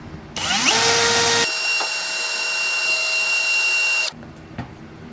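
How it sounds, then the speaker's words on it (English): A power drill spins up and whirs for about four seconds, polishing a rusty bit clamped in its chuck. The loud, steady high whine cuts off abruptly, with a few small clicks before and after and no talking. "So to get it cleaned up, just chuck it in your drill."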